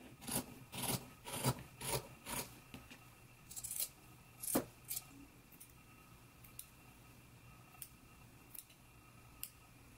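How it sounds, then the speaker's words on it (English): Scissors snip and trim through a sewn fabric seam and clip its curves on a garment, a quick run of sharp cuts at the start, then sparser, fainter snips spaced out over a quiet background. "Now we can go ahead and trim it down and then clip the curves."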